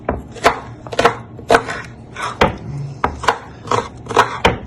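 A knife chops shallot on a board in a home kitchen in quick, even strokes, about a dozen crisp, close cuts with short pauses between them.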